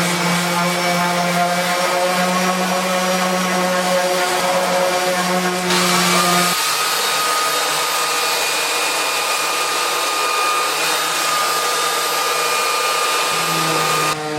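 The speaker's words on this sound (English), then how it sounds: "Everything has been sanded once with the coarser sandpaper." A powered sander works over wooden cabinet parts with coarse sandpaper, a loud, steady whine close by that shifts pitch partway through as the load changes, with no voices.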